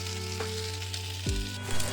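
Potatoes fry in hot oil with a continuous close sizzle and crackle, broken by a couple of dull clunks from utensils or the pan.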